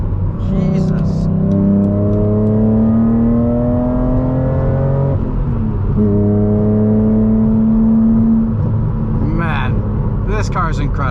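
A 2006 BMW Z4 M engine with an S54 straight-six revs hard and climbs through the gears, rising in pitch, then pulls again after a brief dip, loud and close from inside.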